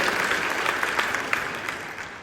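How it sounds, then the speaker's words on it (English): Applause from an audience at a memorial remembrance, a dense steady clapping that fills the whole moment, close and loud, with no talk over it. "Let's give him another round of applause for that."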